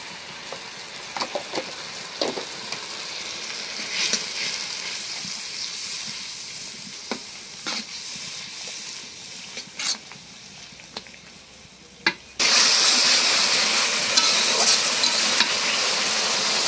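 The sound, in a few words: sautéing fish head curry spices in a pan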